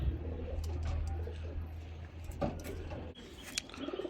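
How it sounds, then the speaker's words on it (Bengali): Teddy pigeons cooing up close, a couple of low throaty coos over a soft rustling background with a few clicks, no speech. "দেখুন কবুতর দুটি"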